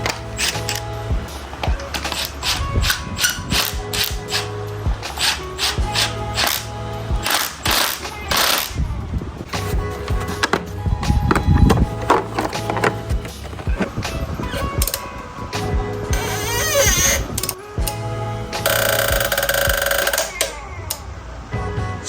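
A rubber spacer creaks and squeaks as a frame slider bolt is tightened on a Kawasaki Ninja ZX10R motorcycle, with repeated ratcheting clicks and mechanical rattles close by.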